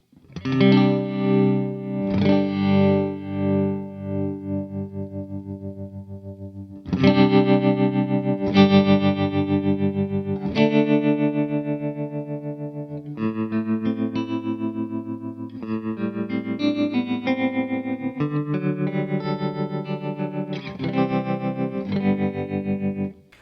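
Electric guitar through a Walrus Audio Monumental harmonic stereo tremolo pedal, chords ringing with a throbbing, phasey, rotary-like modulation; loud and close, no voices.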